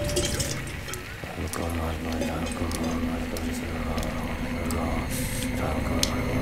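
Water leaking from the ceiling drips into pots in a house in a horror film, giving scattered wet plinks and splashes, with talking and other household noise over and around it.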